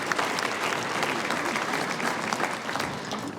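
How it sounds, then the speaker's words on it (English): Sustained, even applause from a large audience at a medical school Match Day event, honoring families; dense clapping fills the hall throughout. "Let's have a round of applause for them."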